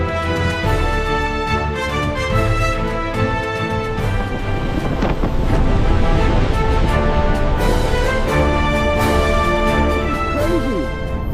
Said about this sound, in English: We are gonna get as close to the waterfall as possible on a boat tour.